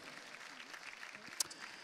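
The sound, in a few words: applause from the stands for rider Michael van der Vleuten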